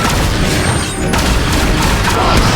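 A grenade blast in the shooter game The Bureau: XCOM Declassified, a loud, dense roaring boom that fills the whole moment, with a brief dip and then a renewed burst of crashing debris and battle noise.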